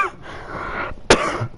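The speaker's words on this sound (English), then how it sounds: "I've been coughing" A single sharp cough bursts out briefly, close and loud, amid a murmur of background sound.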